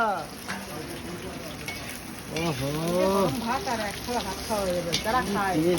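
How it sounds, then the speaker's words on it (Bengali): Ivy gourd (kundri) frying in a pan, a steady soft sizzle running beneath a person talking throughout. "এখন ভাজা দেখতে পাচ্ছ এখন নেমে যাবে কুদরি ভাজা"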